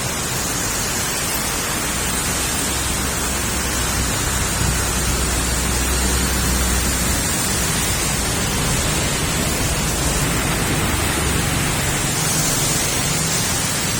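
Steady, dense rain falls continuously in an even hiss, with a faint low rumble underneath and no voices.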